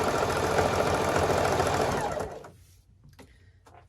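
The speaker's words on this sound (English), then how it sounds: "I don't know anybody else that can sew a jelly roll this fast" A sewing machine runs fast and steady while stitching jelly roll fabric strips into a rug, its loud continuous whir cutting off after about two seconds, followed by a few quiet clicks and fabric handling sounds.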